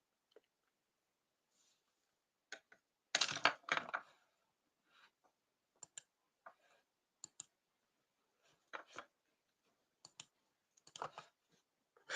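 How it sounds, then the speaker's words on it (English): Computer mouse clicks in a live streaming studio come as scattered, faint, sharp ticks spread over several seconds. A denser cluster of clicking sits near the start, with quiet gaps between the clicks and no talk. "This type of clicking's fine because it makes the studio change and do things"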